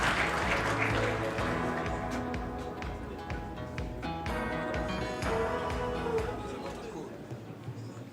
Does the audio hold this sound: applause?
yes